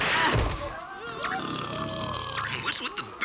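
Cartoon burping comes from a gross-science animated show. One strong burp lands near the start, followed by gurgling, warbling belching under sound effects and voices, moderately loud and close.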